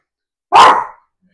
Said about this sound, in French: il y a un chien qui passe